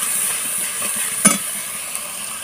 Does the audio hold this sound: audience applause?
no